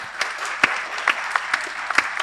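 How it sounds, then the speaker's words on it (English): Scattered audience applause at a South Zone regional round of a college quiz, NFLQ 2025, with light, uneven claps and a few sharper individual claps standing out over about two seconds. "Round of applause for Yennapoya Institute of Arts, Science, Commerce and Management, Bengaluru."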